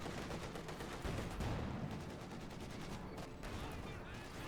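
Panzer IV tank cannon and small-arms fire crackle in a dense, continuous battle in the video game Company of Heroes 2, heard quietly at a distance with a caster talking over it.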